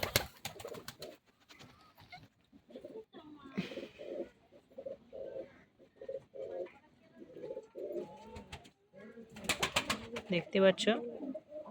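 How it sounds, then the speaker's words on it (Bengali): Pet pigeons for sale coo repeatedly in soft, rhythmic bursts close by, with wing flaps and clatter near the start and end, while someone talks intermittently over them. "এই হচ্ছে দাদা সব পায়রা।"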